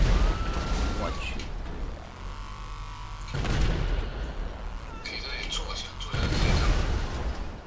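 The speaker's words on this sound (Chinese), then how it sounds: "这个大炮可以充能的" Tank cannon fire in GTA 5: loud booming blasts with heavy low-end rumble, one early and later bursts around the middle and near the end, mixed with game mechanism noise and a rising charge whine.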